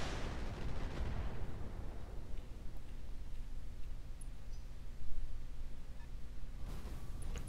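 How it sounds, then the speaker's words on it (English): Artillery barrage landing in the RogueTech mech game: dull, rumbling blasts with a heavy burst at the start and another near the end, over a steady low background. "Now that barrage is going to land this turn."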